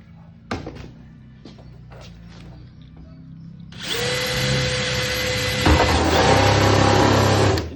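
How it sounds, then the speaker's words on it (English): A power drill whines steadily as it bores an angled hole upward while a custom lamb feeder is built on a farm, following a few sharp knocks and handling thuds, loud and close with a pitch shift mid-run. "And drop your hand down so you're drilling up"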